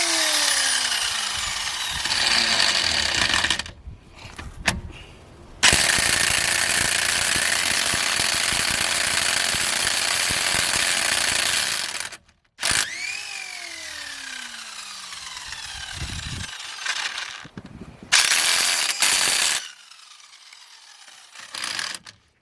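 A Parkside impact wrench hammers on tight BMW car lug nuts, loud rattling bursts of several seconds each with brief pauses and whining spin-ups between, close and alone without talk.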